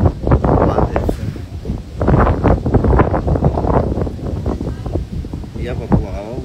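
Strong wind buffets the microphone with rumbling gusts while someone talks close by throughout.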